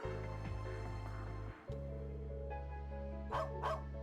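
A dog barks in the video game Trails into Reverie, its short yaps set against a steady, loud game music bed that briefly drops out midway.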